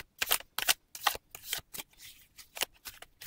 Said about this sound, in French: je vous fais le tirage et je rajouterai des cartes d'un oracle